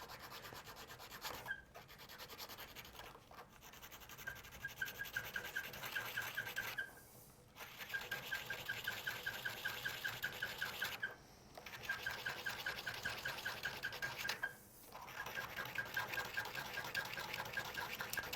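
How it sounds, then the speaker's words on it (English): A hand file rasps steadily against a PVC membrane-clarinet part, close and continuous in long back-and-forth runs broken by a few brief pauses. "maybe file that with a file rather than trying to sand it"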